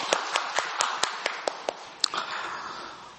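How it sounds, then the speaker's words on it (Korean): Church congregation applauding together after a sermon prompt, a steady rhythmic clapping of about a dozen even beats that settles into a softer, diffuse ripple of hands near the end. "영광의 박수를 주님께 돌리십시다."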